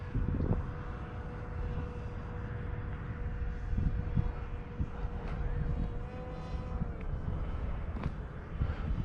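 A model A-10 Warthog plane flying just after takeoff, with a steady, moderately loud engine drone holding pitch against outdoor wind noise and a few faint thumps.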